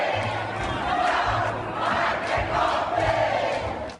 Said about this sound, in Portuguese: A plateia ficou indignada e reagiu aos gritos de "não vai ter golpe"